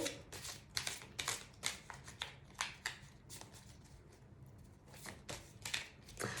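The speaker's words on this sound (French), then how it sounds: "Alors, on va reprendre une carte de ce jeu." A deck of cards is shuffled by hand, with repeated crisp riffling bursts in an uneven rhythm, close and alone, before a card is drawn.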